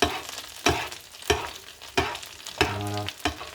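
Fish and artichoke fry in a pan, basted with foaming butter; each spoonful lands with a loud hissing splash, about six bursts over a steady sizzle, close and without voices.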